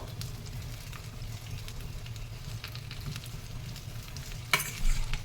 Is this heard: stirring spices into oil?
yes